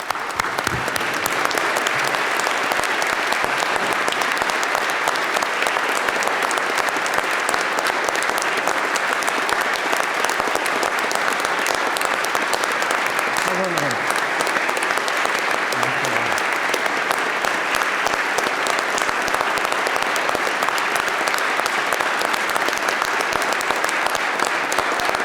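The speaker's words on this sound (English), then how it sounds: "let's have a rouse of applause, a standing ovation for Mr. Billow" Sustained standing ovation on the House floor, a dense, steady wash of clapping from a large crowd that carries on evenly for about twenty-five seconds with no letup.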